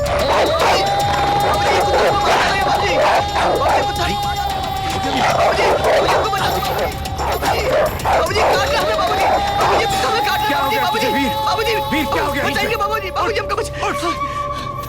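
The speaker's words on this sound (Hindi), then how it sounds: "कुत्ता मुझे मार देगा" A dog barks repeatedly in a Hindi action film scene, the yaps rising over a busy mix of music, crashing effects and overlapping voices throughout.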